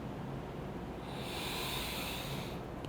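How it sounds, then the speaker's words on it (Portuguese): A slow meditative inhalation, a soft airy hiss of breath that swells in the middle and fades away, close and quiet, with no talking. "você inspira"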